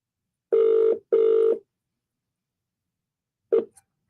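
Two long electronic telephone ring tones in quick succession followed by a short third burst after a pause, loud and clear over silence, during an on-air radio call-in.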